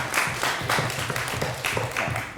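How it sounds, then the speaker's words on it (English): Conference audience applauds a speaker with steady, moderately loud clapping from a room full of people, an even patter with slight pulses and no voices over it. "Thanks for the applause."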